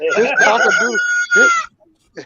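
A voice imitates an old rooster's broken, sputtering crow, a strained cock-a-doodle-doo attempt delivered loudly and close, ending in a short trailing squawk.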